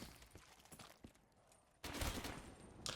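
RPK light machine gun fire in Black Ops 3 Zombies, a faint spread of distant shots that gives way to a sudden louder, dense burst of fire near the end.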